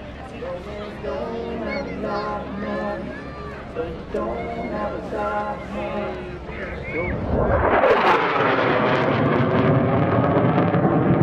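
An F-16CJ Fighting Falcon flies a demonstration at the 2017 Rhode Island Air National Guard open house airshow. An announcer talks over a public address system at first, then a loud, rising jet roar swells in and drowns everything out.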